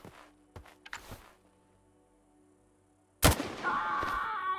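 Rifle shots from a shooter video game, a Dnipro rifle in 7.62×54 firing: a few faint early cracks and thumps, then a sudden loud blast at mid-clip followed by ringing, rumbling aftermath.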